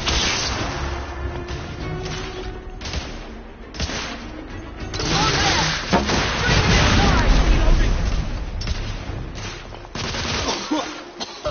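Dense, continuous gunfire and rumbling blasts from a shootout in the video game The Order 1886, loud and sustained with voices talking over the battle.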